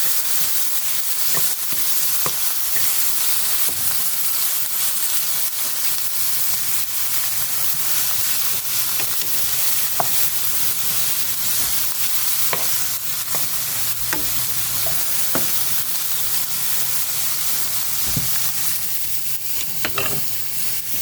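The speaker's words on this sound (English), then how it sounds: "I'm over here stirring this up." A pan of mushrooms frying with a steady sizzle while being stirred, with scraping strokes and a few sharp clinks scattered throughout; close, continuous and without talk.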